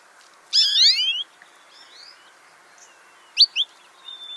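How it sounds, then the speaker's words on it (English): Small sparrow-sized birds chirp at a backyard feeder: a loud burst of rapid descending tweets, a few softer calls, then two sharp chirps and a faint thin note, with quiet pauses between. "So these birds, like I said, are a small bird, typically a sparrow sized or smaller."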